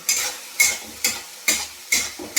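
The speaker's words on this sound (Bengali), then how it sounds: "দেখেছেন মশলা আমার তেল বেরিয়ে গেছে, তার মানে কি হলো, আমার মশলাটা হয়ে গেছে।" Spice masala frying in hot oil in a pan, with regular stirring strokes about every half second over a steady sizzle, loud and close, no talk.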